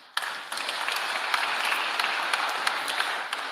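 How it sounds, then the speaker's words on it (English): Dense, steady applause from a large crowd at a memorial service in All Saints Cathedral, beginning abruptly and holding at an even level for several seconds with scattered sharper claps. "can we give them a good round of applause?"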